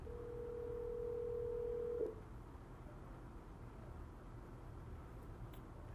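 A single steady telephone ringback tone from a 2011 to 2013 teacher phone, lasting about two seconds and then cutting off, heard alone over a low background hiss.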